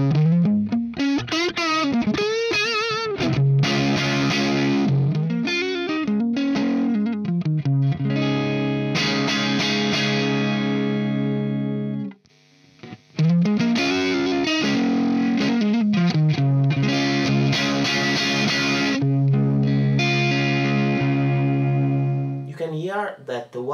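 Electric guitar played through Marshall Studio Series amps (Plexi SV20, JCM 800 SC20, Jubilee), with slightly distorted chords and riffs ringing with heavy sustain and a short pause midway.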